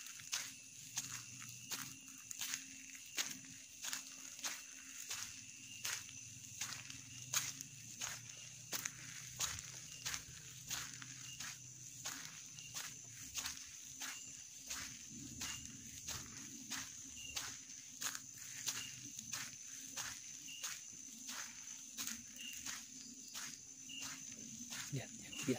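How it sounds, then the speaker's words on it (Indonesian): A person walks steadily outdoors through a village, each footstep landing at an even rhythm over a constant high chorus of crickets and insects. "Dan saya si jalan kaki, bisa terdengar suara langkah kaki saya."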